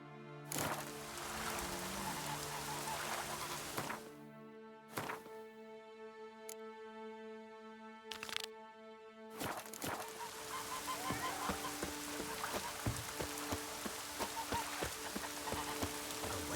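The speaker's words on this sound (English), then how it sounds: "Raining fucking buckets." Heavy rain pouring in The Witcher 3: Wild Hunt, a dense hiss of downpour broken by brief gaps where steady tonal game sounds come through, then the rain returns loud and continuous.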